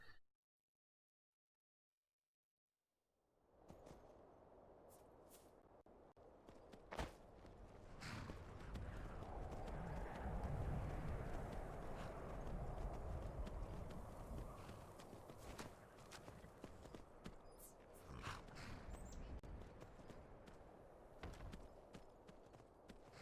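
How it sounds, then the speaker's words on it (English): Horse hooves clip-clop in the video game Skyrim, a steady walking rhythm that runs continuously after a brief silence, fairly loud and close with a low rumble beneath. "Stay, you damn horse."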